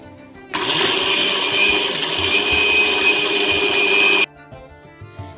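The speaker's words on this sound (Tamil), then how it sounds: "1/2 கப் சர்க்கரை எடுத்து மிக்சியில் போட்டு நல்லா அரைச்சி பவுடர் ஆக்கி எடுத்துக்கலாம்" A mixer grinder whirs loudly for about four seconds as it grinds sugar into powder, starting and stopping abruptly with a steady high motor whine, with quieter room sound before and after.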